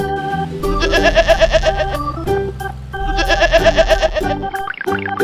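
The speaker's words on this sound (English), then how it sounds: "Sheep." A sheep bleats in two long, wavering cries that ride over playful children's music, followed by a brief quieter bleat at the close.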